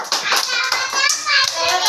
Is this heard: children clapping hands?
yes